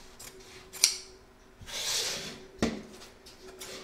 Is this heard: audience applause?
no